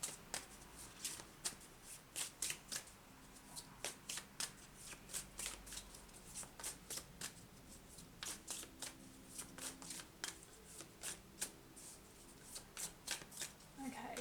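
A deck of oracle cards is shuffled by hand nearby: a long run of quiet, crisp riffling and tapping bursts in an uneven rhythm, with soft speech in the background.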